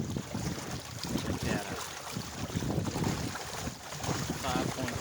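Steady wind roars across the microphone while a homemade cedar kayak trimaran with a CLC sail rig sails over open water, with waves and water rushing around the hull; someone speaks briefly over the buffeting.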